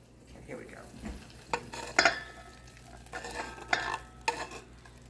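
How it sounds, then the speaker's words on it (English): Meat loaf ingredients with onions are worked together in a bowl, giving soft, moist squelching and a few sharper clinks of a utensil against the bowl at irregular intervals, fairly close and quiet. "Now, we're going to mix this together."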